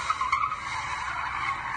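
Tires of a Group B rally car skid and squeal continuously, with a loud, steady, close-up scrub over the racing engine's drone.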